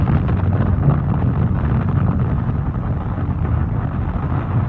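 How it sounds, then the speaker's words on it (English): Heavy, steady roar of a spaceship's jet engines heard from inside the ship, a dense low rumble with no high end, loud and continuous without pause. "So the first layer is the jets on your ship."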